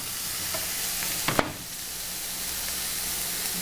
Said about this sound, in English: I'm going to saute red onion in that as well.